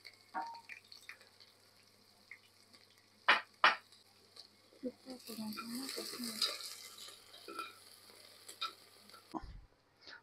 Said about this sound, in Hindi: उसको हमने इसमें डाल दिया है, हम इसको भूनेंगे अब तड़के के लिए